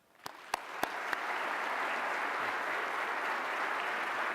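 An audience at a Westminster Town Hall Forum lecture in a church sanctuary breaks into applause to welcome the speaker, a few sharp early claps swelling into sustained, even clapping from the crowd.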